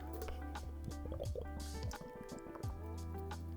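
Close gulps and liquid sloshing as someone drinks water from a container, a few swallowing sounds over a steady low electronic hum, with no words spoken.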